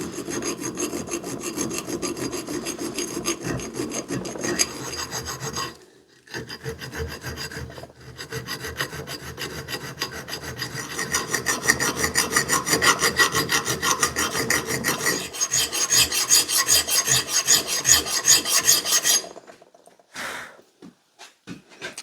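A file rasps across the steel head of an E&S Jersey pattern boys axe, removing mushroomed metal. Close, rhythmic scraping strokes run in long bursts with a couple of short pauses and a final few isolated strokes.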